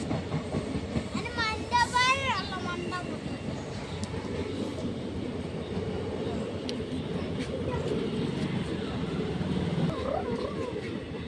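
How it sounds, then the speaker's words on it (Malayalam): A large passenger train runs along a railway line, its continuous low rumble and rolling clatter steady and close throughout, with a brief high horn-like tone early on. "ട്രെയിൻ പോവാണ്."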